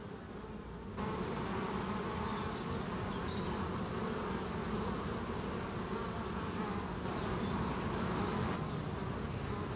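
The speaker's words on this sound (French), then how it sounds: "On voit bien que c'est un frelon" A dense, steady buzz of honeybees swarming over a European hornet at a hive, continuous and close throughout, with the hum swelling slightly after the first second.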